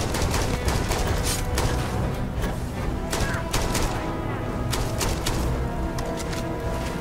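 Dense, continuous gunfire from a new gun in the space game Starfield crackles in rapid bursts with heavy booms underneath, loud and close throughout with no letup.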